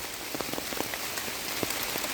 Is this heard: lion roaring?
no